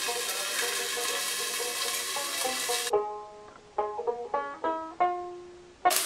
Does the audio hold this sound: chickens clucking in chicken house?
no